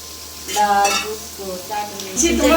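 Eggplant slices frying in a pan in a home kitchen give a soft, steady sizzle beneath close, clear talking voices.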